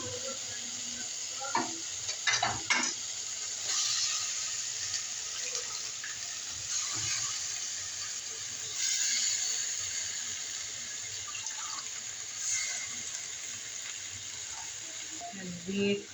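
Bottle gourd greens stirred and frying in a pan, with a steady sizzle and scraping stirring strokes throughout, brief clatter at times and a tap-like running-water hiss underneath.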